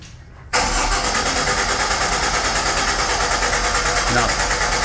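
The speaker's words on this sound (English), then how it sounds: "go ahead and crank it" A GM Gen V engine cranks briefly and catches, then settles into a loud, steady idle that runs on to the end.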